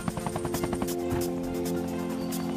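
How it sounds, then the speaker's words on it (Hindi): Helicopter in a Tarzan cartoon, rotor blades thudding in rapid pulses that settle into a steady loud engine drone. "हम हेलीकॉप्टर से जाते हैं।"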